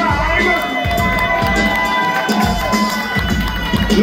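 Nightclub crowd cheering and shouting after a DJ introduction at a birthday party, a dense continuous roar of voices with loud bass music thumping underneath.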